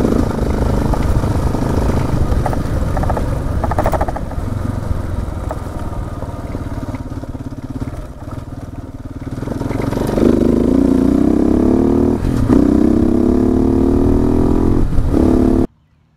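A motorcycle rides narrow, technical roads in Oklahoma. The engine drones loud and steady from close by, with the pitch rising and falling as it revs and shifts, and a sharp cut at the end.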